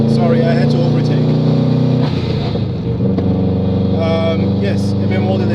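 Car engine droning loudly from inside during an overtake, with a steady low hum that shifts in pitch midway as the revs change, and a person talking over it.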